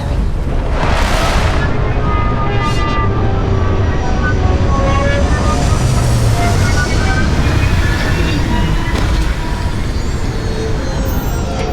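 Starfield spaceship retro thrusters fire continuously on landing, a loud, dense roar with rumbling low end and hissing bursts, sustained throughout with faint talk underneath.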